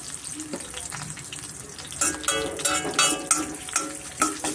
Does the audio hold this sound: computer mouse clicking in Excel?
no